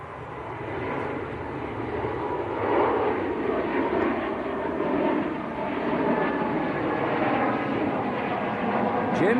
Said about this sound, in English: Airbus A220